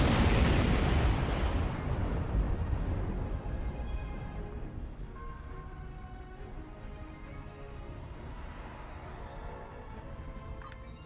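Plasma torpedoes explode in Star Trek Online, a loud rumbling blast up front that trails into a long fading roar and crackle, with faint electronic tones underneath and no talk.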